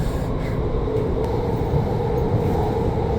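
Rumbling ride aboard a driverless metro train in Doha, a steady low roar of wheels and motors filling the cabin throughout with no voices.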